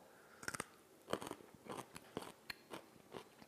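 Close crunching bites and chewing of vegetable chow mein with crunchy vegetables and sesame flavor, several sharp crisp bites spaced irregularly with softer chewing between, loud and near with no talk.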